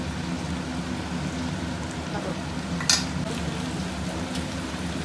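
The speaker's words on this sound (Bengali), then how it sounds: "যতক্ষণ না এখান থেকে তেল ছাড়বে ভালো করে, ততক্ষণ আমি এই মাংসটাকে কষাবো" Mutton slow-fried kosha-style in oil crackles and sizzles steadily at close range, with a brief sharp scrape of stirring near the middle.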